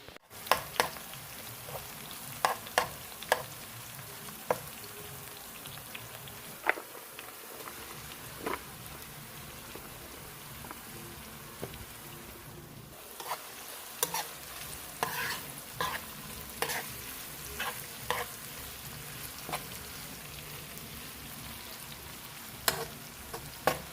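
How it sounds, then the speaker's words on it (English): Fresh seasoning for a Jamaican veggies-and-saltfish dish sizzles as it fries in a pot, with repeated scraping stirs and small clatters of a spoon against the pot over a steady frying hiss, no talking. "I'll put some of the fresh seasoning in the pot first, make it go and fry up"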